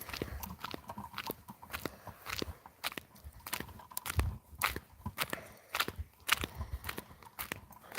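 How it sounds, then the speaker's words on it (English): Footsteps crunch steadily on frozen, ice-crusted snow outdoors in below-freezing cold, each close, sharp crunch landing in an even walking rhythm. "All the snow, it's all crunchy."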